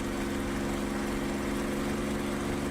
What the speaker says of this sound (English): that propeller is idling so slow